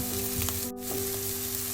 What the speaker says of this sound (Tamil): இப்போ கொவ்வங்காய் நல்லா வதங்கி கொண்டு வந்துட்டுது